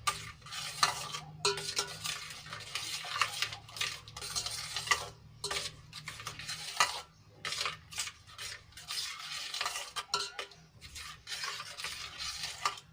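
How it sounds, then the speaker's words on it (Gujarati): Repeated swishing and scraping strokes of stirring soap into water in a container, an uneven rhythmic churn of liquid, close and fairly quiet. "આ રીતે હલાવીને આપણે સાબુને સારી રીતે ઓગાળી લઈશું"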